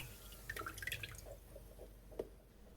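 Water drips and splashes quietly as a piece of 2.5mm vegetable-tanned leather is moistened, a brief cluster of light trickling sounds followed by a few single drops, close and faint.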